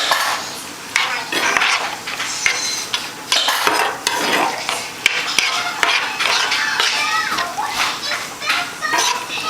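Green peppers being stirred into a mixture in a pan: a busy run of utensil scrapes and clinks against cookware, close and steady, with voices talking underneath.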